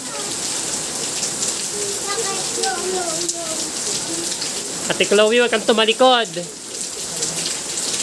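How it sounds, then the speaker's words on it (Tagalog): Heavy typhoon rain pours down in a steady, dense hiss while children play and bathe in it outdoors; a voice speaks and other young voices chatter and call out briefly over the downpour. "Sarap maligo sa ulan?"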